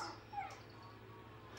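Dog whimpering in the Minecraft video game, a short soft whine near the start over a steady low game hum, fairly quiet with no talking.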